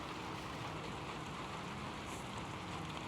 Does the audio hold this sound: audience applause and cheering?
no